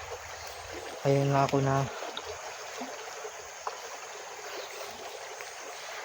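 A deep river flows steadily past as a continuous broadband rushing wash, moderately loud and close. Someone speaks briefly near the start over a short tonal hum.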